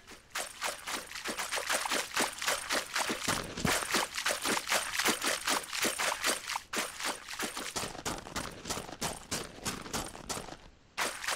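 Water sounds play in an Unreal Engine 4 game while a character is in water. Rhythmic splashing and sloshing strokes repeat steadily and loudly for several seconds.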